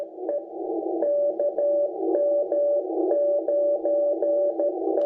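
Morse code CW signal coming through the internal speaker of a Xiegu G90 radio: a steady tone keyed into short and long elements in an irregular rhythm over a continuous band of receiver hiss, no speech.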